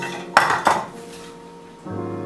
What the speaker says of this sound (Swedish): Vi behöver en kastrull.